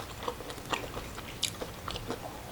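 Crunchy Kyochon Honey Combo fried chicken is bitten and chewed close to the microphone, with several crisp, sharp crunches spaced irregularly over a couple of seconds.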